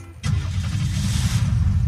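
A car engine in the video game Unturned kicks in abruptly and then holds a loud, steady low rumble close by, with no voices.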